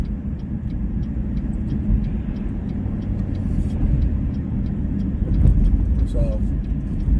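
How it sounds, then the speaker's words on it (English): Road traffic rumbles past in a constant low drone, with engine noise swelling slightly as vehicles go by and faint regular ticking above it. "This traffic is bananas."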